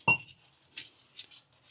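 Spoon clinking against a bowl while maida batter for papad is stirred with added water: a few sharp, bright metallic taps spaced apart, close and fairly quiet.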